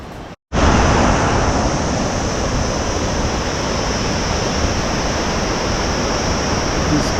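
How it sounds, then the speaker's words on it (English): A waterfall roars steadily on a mountain trek in Nepal's Manaslu region, a broad, dense rush of falling water that fills the scene close by, starting after a brief silent gap. "These beautiful waterfalls."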